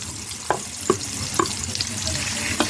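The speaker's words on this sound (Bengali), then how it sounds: "এখন এটা একটু ভেজে নেব যাতে কাঁচা ভাবটা চলে যায়।" Chopped onion and ginger-garlic paste frying in a pan for a liver bhuna, with a continuous close sizzle punctuated by several distinct stirring scrapes and clinks, no voices.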